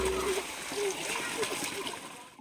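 Water flows out on top of a rocky hill with a soft, steady splashing trickle, heard close under someone talking.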